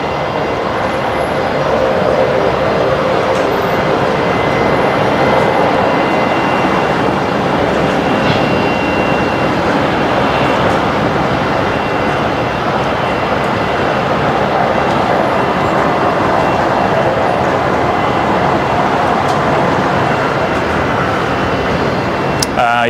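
A jet departing Brisbane Airport at sunset gives a steady, loud broadband roar that holds evenly throughout, with a voice talking over it at times.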